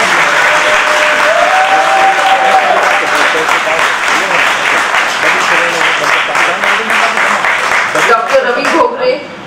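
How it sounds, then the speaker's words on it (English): A large audience at a medical college alumni get-together gives a huge round of applause, dense and loud clapping sustained for several seconds, with a few voices and cheers mixed in before it tapers off. "Can we have a huge round of applause for him?"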